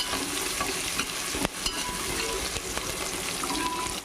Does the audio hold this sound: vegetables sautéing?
yes